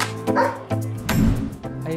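A giant poodle barks and yips several times close by, sharp woofs mixed with whimpering whines in an uneven rhythm, loud against a quiet indoor background.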